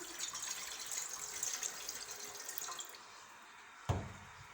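About 1.5 cups of water pour steadily into a cooking pot with a soft, close splashing hiss, then stop, followed by a single faint clunk.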